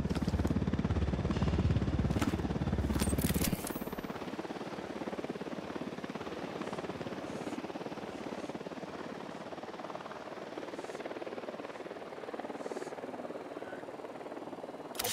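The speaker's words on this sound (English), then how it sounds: "Chopper, hit the dirt." A helicopter in the video game Ghost Recon Wildlands hovers nearby with a steady rotor drone. The first few seconds are louder before it settles into a sustained, moderately distant hum.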